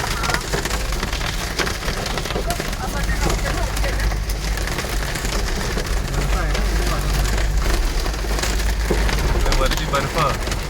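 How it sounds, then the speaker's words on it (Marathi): Heavy rain drums steadily and loudly on a car while driving on the road from Shimla to Manali, a dense continuous patter with people talking inside the car. "केवढा पाऊस आहे तो."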